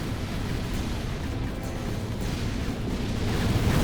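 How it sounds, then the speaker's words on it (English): Booming, rumbling explosions from space-battle combat in the game Gratuitous Space Battles form a dense, continuous roar that swells slightly toward the end, with no voices. "I really like the explosion effect in this game"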